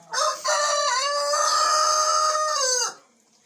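A young rooster, a cockerel raised for meat, lets out one loud, sustained crow lasting nearly three seconds, close by and alone.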